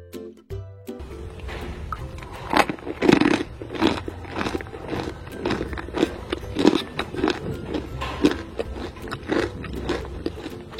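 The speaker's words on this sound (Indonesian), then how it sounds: "Asli kriuk, rasanya renyah dan gurih." Repeated crunchy bites and chewing of a crisp fried cookie, close up, a steady series of sharp crackling crunches with no talking.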